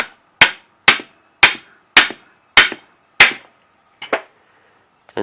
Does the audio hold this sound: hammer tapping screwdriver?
yes